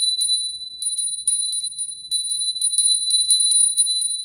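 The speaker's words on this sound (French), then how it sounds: "Alors on va faire un petit coup de cloche" A small bell is shaken in rapid bursts to call on guides and spirits, bright high tinkling rings that repeat in quick clusters with brief gaps, close and clear with no talking.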